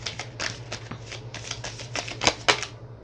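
Tarot cards being shuffled by hand at close range, a quick run of soft riffling clicks and slaps with a couple of sharper snaps near the end, quiet and without speech.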